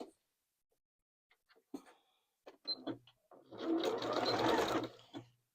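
A sewing machine stitches a quarter-inch seam around the edge of a Headless Horseman costume piece, starting with a few short, hesitant bursts and then running in one steady, close whirring stretch of about a second and a half.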